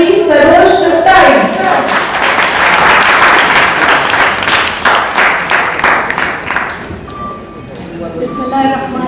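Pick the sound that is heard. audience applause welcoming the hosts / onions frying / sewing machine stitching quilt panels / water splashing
audience applause welcoming the hosts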